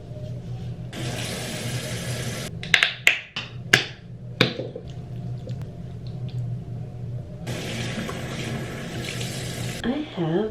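Tap water running into a sink, splashing in two bursts near the start and end, with sharp clicks and clatters of handling between them, close and moderately loud.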